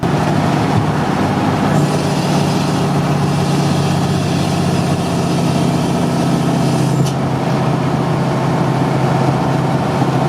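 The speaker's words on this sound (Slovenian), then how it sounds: "Še bolj pa rohnenje 14-litrskega dizla, sploh po klancu navzdol s pritisnjeno motorno zavoro." Steady, loud low rumble of a FIAT 619 N1 truck's 14-litre diesel engine, heard from inside the cab. The drone stays constant throughout with a brief shift partway through.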